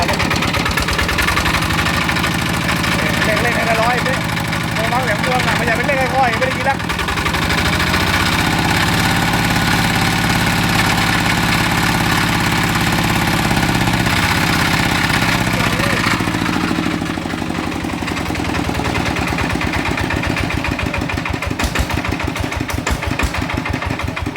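A Chao Phalang single-cylinder engine, freshly refitted with new gears, runs steadily and loudly with a continuous idling chug and some knocking, while voices talk over it.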